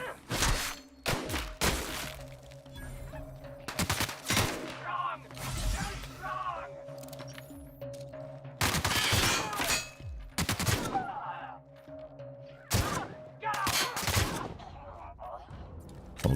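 Gunfire cracks through a session of The Outer Worlds, with repeated sharp shots and short rapid bursts at irregular intervals, loud and close, while a voice speaks between them.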